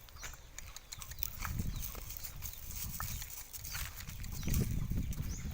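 A horse carrying a rider walks a rural path toward farmland, its hooves clip-clopping in a loose, uneven rhythm over outdoor background noise.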